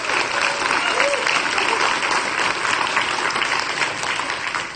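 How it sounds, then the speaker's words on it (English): A conference audience at PyCascades applauds the previous speakers with a dense, even roar of clapping that holds steady throughout, fairly loud and close. "So let's give them a round of applause."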